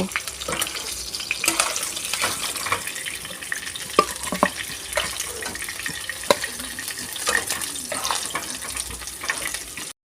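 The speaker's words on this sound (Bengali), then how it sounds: "মাছগুলো আমার লাল লাল করে ভাজা হয়ে গেছে আমি তুলে নেব" Pieces of magur catfish fry in hot oil until browned, giving a steady, close crackling sizzle with scattered clinks and stirring noises, with no talk over it.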